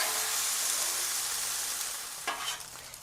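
Sweet potato and chorizo cooking on a Blackstone griddle, giving a loud, steady broadband sizzle. Near the end a couple of scraping bursts come through as the food is mixed together. Nobody talks.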